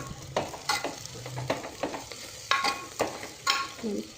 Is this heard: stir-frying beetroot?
yes